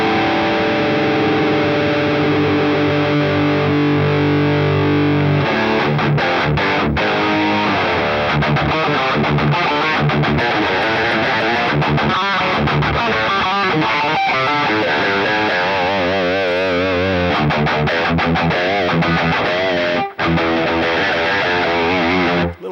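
Heavily distorted modern metal guitar through a Boss Katana Mk II amp, tuned to drop D, playing loud chugging riffs and chords steadily for the whole stretch with no talking.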